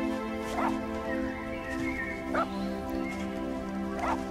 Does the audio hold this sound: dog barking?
yes